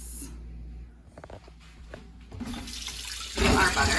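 Tap water runs into a bowl while homemade butter is rinsed in ice water, a close splashing flow with brief handling sounds that swells louder near the end.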